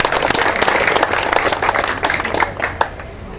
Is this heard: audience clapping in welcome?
yes